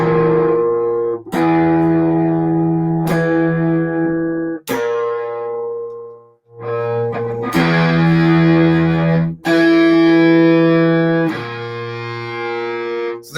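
A heavily distorted electric guitar plays a tritone in a doom metal style, ringing out as a series of loud, sustained notes and chords separated by brief cutoffs.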